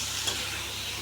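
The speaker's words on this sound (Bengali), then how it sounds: "হালকা ভুনে নিতে হবে আলুগুলো" Potatoes being lightly fried and stirred in a pan give a brief, even hiss of sizzling oil, heard close and alone with no talk.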